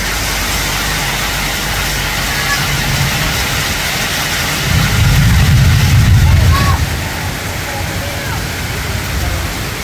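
Heavy rain pours down in a steady, dense roar that swells louder midway through, with a low engine rumble underneath.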